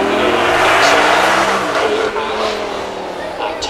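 A Porsche Taycan Turbo accelerating hard on a run at a supercar weekend, a loud, close electric whine rising in pitch over a few seconds with faint tire noise and crowd or voices underneath.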